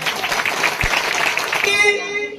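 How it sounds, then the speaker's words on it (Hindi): A church congregation claps loudly together during a Hindi sermon, a thick continuous patter of many hands, with a sustained tone rising beneath it near the end. "जोर से ताली बजाएं"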